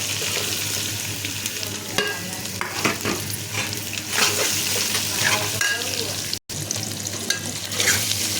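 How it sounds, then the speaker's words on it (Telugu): Tomato pieces fry in hot oil while being stirred, a continuous bright sizzle broken by repeated scraping strokes of a spoon in the pan, close and steady with one brief dropout. "కలిపిన వల్ల ముక్కలన్నీ మంచిగా నూనెలో మగ్గుతున్నాయండి"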